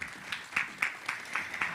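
Scattered clapping from a conference audience for the moderator, Sandy: a few distinct, fairly soft claps in a loose rhythm, thin and brief, with no voices over them.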